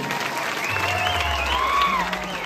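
Loud, continuous audience applause filling a hall, even and sustained throughout, with faint voices and a tonal sound briefly audible over the clapping.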